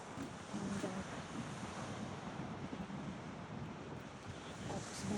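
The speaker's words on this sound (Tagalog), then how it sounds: "At ayun yung dagat." Sea waves wash at a beach in Lagos, Portugal, a faint, steady surf roar mixed with wind buffeting the microphone, with no voices.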